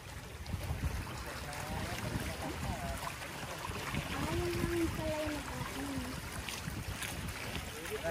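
Steady water rushing and splashing against a moving sailboat at sunset in Boracay, with a faint whistling tone partway through and wind noise throughout.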